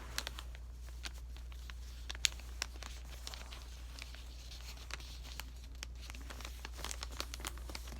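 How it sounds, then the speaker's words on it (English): Paper being folded and creased into a paper airplane, with soft crinkles and light taps scattered through the clip at low volume. "The next step is to fold the tip of the triangle up towards the center, towards the halfway point,"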